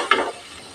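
Spoon stirring a thin, watery shol fish curry broth in a pan over high heat, one short scraping swirl with a faint simmering hiss, close and alone.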